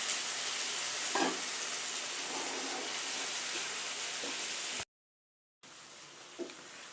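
Tomatoes and pre-boiled mutton sautéing in a pan for Tamil mutton uppu kari, a steady close sizzle with a few soft stirring scrapes, briefly cut to silence before resuming.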